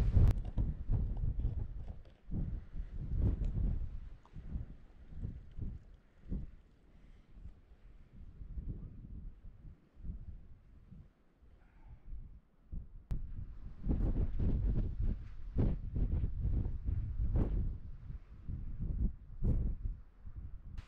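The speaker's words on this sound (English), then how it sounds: "I'm going to get out of this wind" Gusty wind on an exposed fell ridge in the Lake District near Hartsop Above How, buffeting hard against the microphone in loud rumbling bursts that ease briefly midway before surging again.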